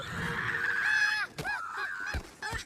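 Loud, harsh squawking from a chicken, a long continuous call followed by a few shorter honking cries, close by with no talking, in the animated film The Good Dinosaur.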